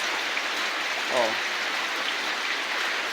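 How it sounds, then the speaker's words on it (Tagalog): Heavy rain pours down in a steady, even wash of hiss, with a brief spoken exclamation rising over it partway through. "ang lakas na naman ng ulan o"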